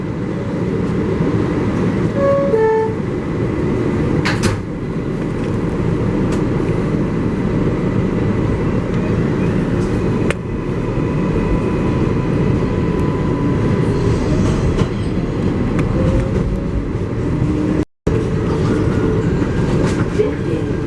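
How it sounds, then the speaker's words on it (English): An NYC subway 7 local train bound for Flushing Main Street, heard from inside the car as a loud, continuous rumble and rattle of wheels on track with occasional clicks and screeches, plus a brief sharp break near the end. "This is the Flushing Main Street bound 7 local train."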